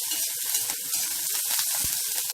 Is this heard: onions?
yes